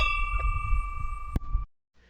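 A notification bell sound effect rings out as sustained bright tones over a low rumble, with one sharp struck ding near the end before the sound cuts abruptly to near silence.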